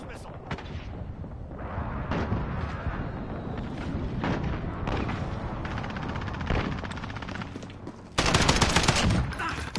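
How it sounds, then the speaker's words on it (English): An enemy cruise missile strike in a military shooter game hits amid heavy gunfire and booming blasts, with a louder roaring burst near the end; voices are heard beneath the combat noise. "Enemy cruise missile."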